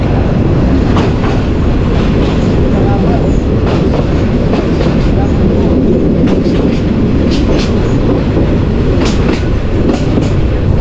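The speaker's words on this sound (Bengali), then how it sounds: "আস্তে আস্তে যে ট্রেনের গতি, এটা গতিটা কিন্তু কমিয়ে দেওয়া হয়েছে।" A passenger train runs along rails in Bangladesh approaching a junction station, making a loud, continuous close rumble with clattering wheel noise and occasional sharper clicks.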